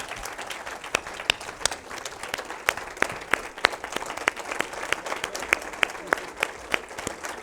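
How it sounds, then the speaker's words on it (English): A crowd applauds steadily, with many dense overlapping claps that hold a constant level throughout. "Can we give a round of applause for for Monique, our guest, for Sydney?"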